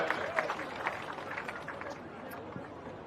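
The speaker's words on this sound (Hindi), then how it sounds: "जोरदार तालियों से अध्यक्ष जी का स्वागत करें, जोरदार तालियों से" A crowd at an outdoor Congress political rally in Alwar applauds, a faint and distant wash of clapping mixed with crowd chatter that holds steady throughout.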